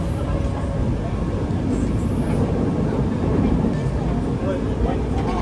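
A Nankai Gran Tenku sightseeing train climbs a mountain section of the Namba to Koyasan line, giving a steady, close rumble of wheels and carriage with faint rattles as the car sways over the track.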